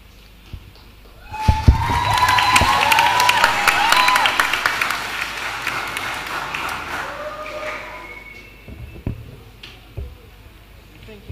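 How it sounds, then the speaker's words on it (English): Audience applause after a performance at a secondary school graduation ceremony, a dense burst of clapping that swells loudly, sustains for several seconds and then tapers into scattered claps, with a voice briefly heard. "A round of applause again for Tonya."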